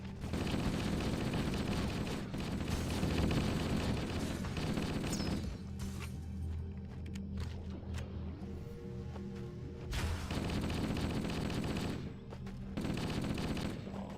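Gunfire in the Halo CE video game, rapid bursts of automatic shots rattling continuously, broken by a quieter stretch in the middle before loud firing resumes.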